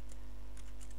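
Keystrokes on a computer keyboard, a few separate clicks spread across a second, faint and alone over a low steady hum.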